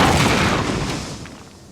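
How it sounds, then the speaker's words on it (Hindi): A tank cannon fires in an animated children's cartoon: one loud, heavy boom with a broad blast and a rumbling tail that fades over about two seconds. "टाइगर की तोप का तो जवाब नहीं"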